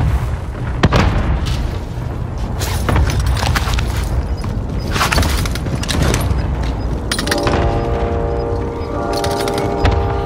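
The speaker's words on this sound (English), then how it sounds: "Throwing grenade! Frag out! Frag out!" Frag grenade explosions in the video game Warzone, loud booming bursts and crackling debris over constant gunfire and battle noise, a high electronic tone ringing near the end.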